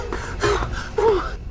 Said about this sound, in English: He was huffing and puffing.